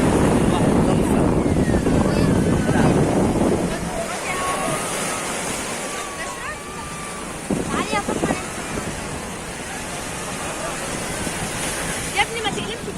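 Sea waves wash onto the beach at Gamasa on Egypt's Mediterranean coast in the early morning, a rough roar of surf mixed with wind buffeting the microphone, loudest at first and then settling to a steadier wash.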